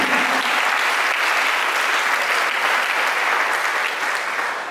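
A church congregation applauding at a Sunday worship service, dense sustained clapping from many hands that fills the room evenly and fades slightly at the end, with no voices over it.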